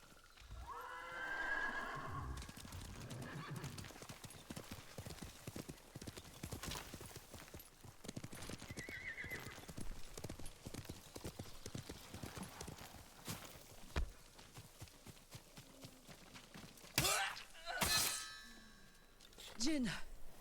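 A horse in the samurai action game Ghost of Tsushima, clip-clopping hooves in a steady rhythm with a couple of whinnies and metallic clangs, while a person talks over the game sounds.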